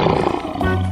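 A lion roars in a busy animated animal-crossing scene, one loud continuous roar filling the whole second over a dense, layered background.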